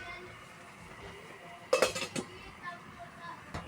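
A pot lid is set back on a cooking pot with a cluster of metallic clinks and clanks, close and fairly loud, followed by a faint later tap over quiet kitchen background.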